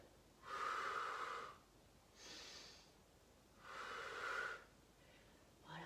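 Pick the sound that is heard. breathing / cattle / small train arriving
breathing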